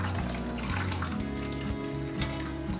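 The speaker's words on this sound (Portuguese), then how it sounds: "E dentro dessa assadeira vamos colocar água fervendo" Boiling water pours steadily into a baking pan holding a banana pudding mold for a water bath, a continuous close splashing gush lasting a few seconds.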